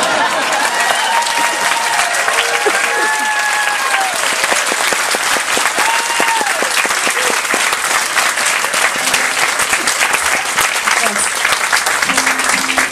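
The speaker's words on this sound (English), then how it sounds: "Leading into applause is one of my favorite audience reactions" Audience on the JoCo Cruise 2016 breaks into loud, sustained applause and cheering after a song, with whoops and scattered voices over dense clapping throughout.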